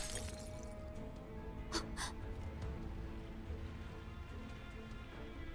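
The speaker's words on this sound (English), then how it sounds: "As the sound of broken glass fills the hold" In the Girl's Frontline 2 video game, a wine bottle smashes on a man's forehead: two quick bright crashes of breaking glass stand out briefly over a low, steady background of rumble and noise.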